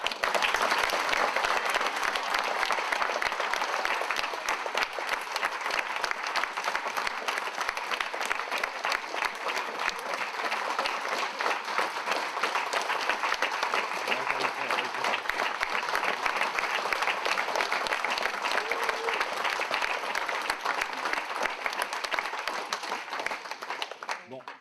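A theatre audience claps in sustained, dense applause that holds at an even level for the full length before tapering slightly at the very end.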